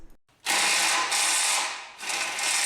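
Ratchet wrench loosening skid plate bolts underneath a V8 4th-gen Toyota 4Runner, a loud, continuous rapid clicking that runs for about two seconds, pauses briefly, then resumes, close up with no talking.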